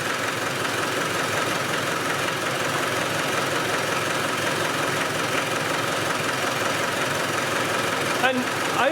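A Spanish 110 engine idles with its valve covers off, a steady mechanical clatter and ticking close by, with a voice speaking briefly over it.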